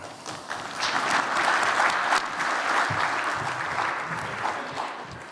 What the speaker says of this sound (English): Please welcome to the stage with a warm applause, Jaime Velez.